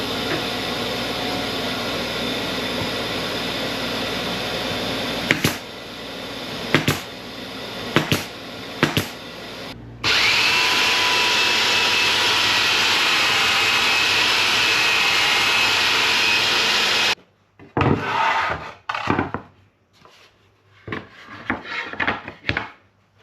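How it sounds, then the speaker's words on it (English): Coarse 80-grit sandpaper rubbing over old varnished boat wood, a steady loud abrasive hiss sustained for several seconds, framed by scattered scraping strokes and knocks before and after. "I've sanded these to 80 grit, removed all the varnish"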